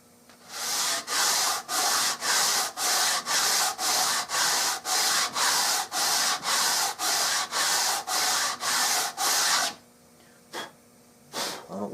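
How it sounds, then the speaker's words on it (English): An eraser rubs pencil lines off the top of a wooden stock being fitted to a Remington 788 rifle, with about fifteen quick, even back-and-forth strokes up close that stop near the end, leaving a few faint taps. "I'm going to erase the lines that I've been drawing on this top."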